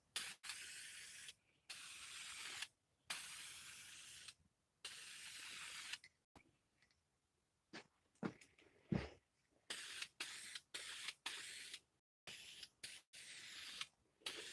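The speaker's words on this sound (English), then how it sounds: "Now let's spray it. Do a little test spray." A spray gun hisses polyurethane onto a clawfoot tub in a test pass, several loud sustained bursts separated by abrupt silences and a brief quieter stretch in the middle.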